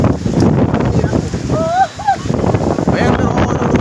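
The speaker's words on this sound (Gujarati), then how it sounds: "ભયંકર વાવાઝોડું છે." A strong windstorm roars and buffets the microphone during a pilgrimage trip to Chotila, a loud, continuous broadband rush with brief dips, while voices talk over it.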